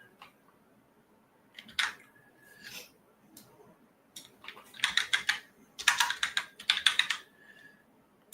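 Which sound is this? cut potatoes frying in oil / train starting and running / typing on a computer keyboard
typing on a computer keyboard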